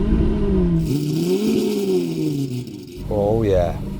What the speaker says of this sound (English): cold start each of these Aventadors, starting with the original one